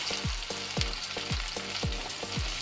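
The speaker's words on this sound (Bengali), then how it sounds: "পেঁয়াজটা একটু ভেজে নেব" Onion frying in hot oil with whole spices (cumin, cardamom) for a Bengali egg dhoka curry: a steady close sizzle with regular rhythmic stirring strokes about every half second, no voices.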